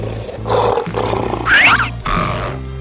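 A lion roars loudly in several rough bursts over a steady low backing of music, set in a guessing-game escape challenge featuring farm and wild animals.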